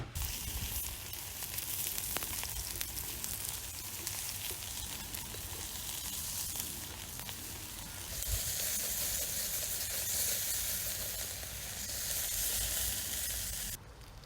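Reduced-price Lincolnshire pork sausages sizzle steadily on a hot barbecue, a loud, continuous crackling hiss with no voices over it.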